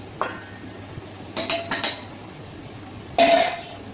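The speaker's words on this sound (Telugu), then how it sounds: "ఇప్పుడు మనము ఈ కలిపిన పౌడర్ అంతా ఈ మామిడికాయ ముక్కలు ఉన్నాయి కదా ఇందులో వేసేయాలి" Spice powder tipped from a metal bowl onto cut raw mango pieces while making avakaya pickle: a single clink, then two short bursts of metal scraping and a louder rattling clatter near the end, with quiet gaps between.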